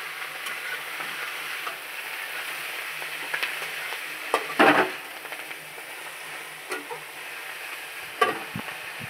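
Leafy greens seasoned with salt and turmeric sizzle softly in a pan, a steady hiss broken by a few louder scraping stirs and clatters from a spoon.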